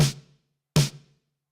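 Two punchy 80s-style snare drum hits, each with a large gated reverb tail that cuts off abruptly, spaced under a second apart and heard alone.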